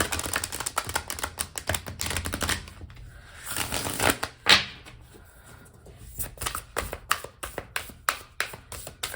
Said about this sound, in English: do one more good shuffle here